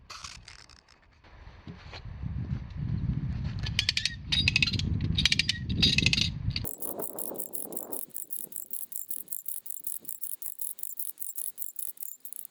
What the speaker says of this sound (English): But now we'll just go to the puller and crank the whole thing over.